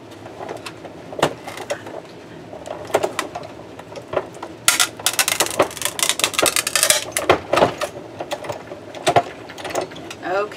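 A manual die-cutting machine cranking a cutting plate through, producing a steady run of clicking, ratcheting mechanical noise that grows busier and louder midway, with no talking.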